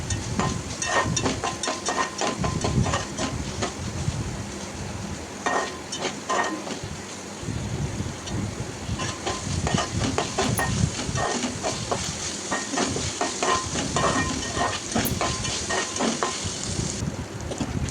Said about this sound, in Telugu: తర్వాత ఉల్లిపాయ ముక్కలు వేసి వేయించుకోవాలి.